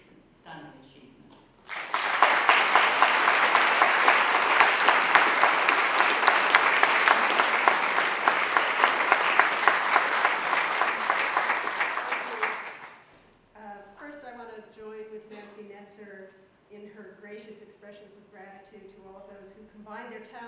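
Audience applause after a speaker's introduction at an art talk: a dense, loud burst of clapping that holds for about ten seconds and then fades, followed by a speaker beginning to talk.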